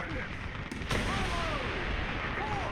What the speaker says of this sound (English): Artillery strike! Coordinates!